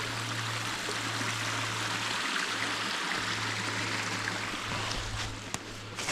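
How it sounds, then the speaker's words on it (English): A small woodland brook flows steadily nearby, a continuous broad rushing trickle of water heard alone, with a low steady hum underneath throughout. "Nice little brook."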